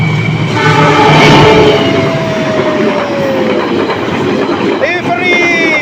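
Argo Wilis passenger train in Indonesia, in an 80th Independence Day red-and-white livery, roaring close by with a horn blast over rumbling wheels and clattering cars, loud and continuous throughout.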